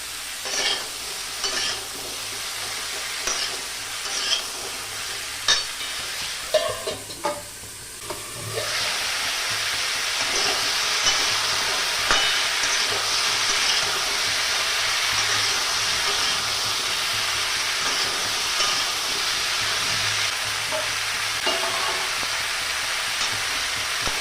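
Drumstick pods and vegetables fry in a little oil with salt in a pan, a steady loud sizzle that swells sharply partway through and holds, with scattered stirring clatter early on.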